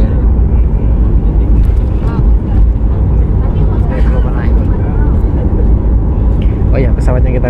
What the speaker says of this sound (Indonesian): Ini sudah sekitar 2 menit pesawat berjalan santai menuju ujung landasan sepertinya.